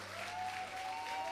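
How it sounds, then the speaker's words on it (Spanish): A church congregation gives steady applause during a worship service, a sustained wash of clapping at moderate volume with a faint tone held underneath. "Dele un gran aplauso al Señor"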